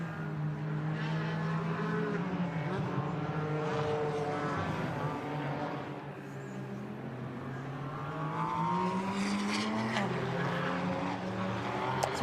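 DTM Trophy race cars screaming out of the hairpin at Hockenheimring, several engines layered and rising in pitch as they accelerate, loud and sustained, with one car passing close around the middle.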